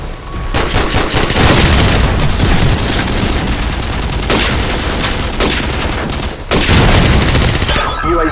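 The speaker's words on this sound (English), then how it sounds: "I'm gonna go ahead and use the Uzi now." Rapid Uzi bursts in Call of Duty 4 team deathmatch, loud and dense automatic fire rattling almost continuously, broken by a short pause near the end before resuming.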